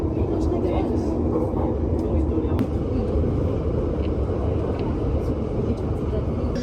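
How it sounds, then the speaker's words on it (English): Dense, steady rumble of a busy train terminal at St. Pancras International in London, with low engine and rail noise, crowd murmur and occasional faint clanks, continuous throughout. "I've made it to the St. Pancras International Terminal for trains"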